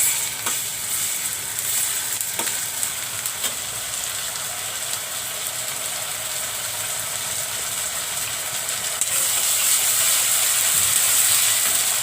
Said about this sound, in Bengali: আদা রসুন একটু তেলে ভেজে নিলাম, নাহলে আদা রসুন গন্ধ করে।